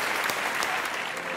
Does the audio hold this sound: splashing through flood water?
no